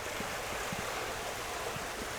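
A creek flows in the woods, a constant broadband rushing and gurgling of water, steady and fairly quiet with no other sounds.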